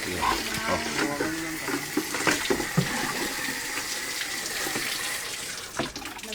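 Water pours steadily from a tap, splashing and hissing into a sink at close range, with a few clinks and knocks mixed in.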